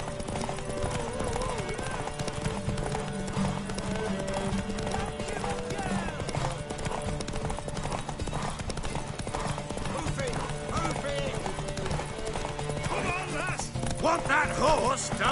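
Horse hooves clip-clopping in the video game Witcher 3, a steady rhythmic trot running under game music and character dialogue throughout.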